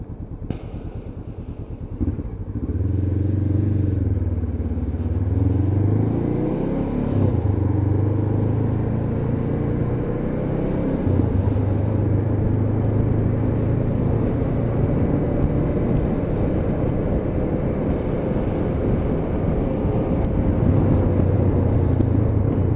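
A Honda CB500 motorcycle with an aftermarket exhaust can idles and burbles steadily, a low continuous engine rumble with small rises in revs and no voices.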